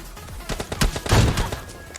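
Rapid bursts of video game gunfire from PUBG Mobile crackle in quick succession, sharp and punchy, a short volley of shots with a noisy background.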